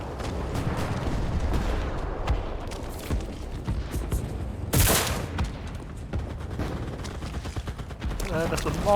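Gunfire in the World War II shooter video game Enlisted, with rapid bursts and single cracks rattling through a busy battle mix and one sharp loud blast near the middle, while a player talks under the action.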